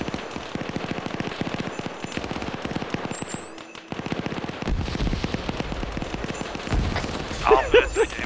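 Rapid machine gun fire rattles in a military shooter video game, a fast even stream of shots for the first few seconds and then heavier booming gunfire and explosions, with voices talking over the action.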